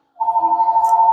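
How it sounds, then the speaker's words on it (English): A telephone rings once in a kitchen, a single sustained electronic tone starting abruptly and holding steady, clear and fairly close with no talk over it. "That phone has been ringing all morning."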